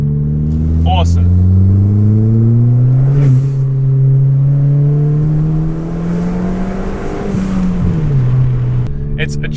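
A Ford Fiesta ST hot hatch's small turbocharged engine accelerates hard on a wet road with traction control on, its loud rising drone climbing through gears with brief dips at shifts, and a voice talks over it.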